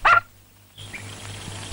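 A dog gives one short, sharp bark up close, then quiet with some faint background hum and a soft whimper-like sound.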